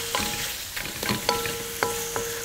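Onion and sausage frying with very little fat in a pan, a steady crackling sizzle broken by several sharp scrapes and clinks of a spoon stirring against the metal.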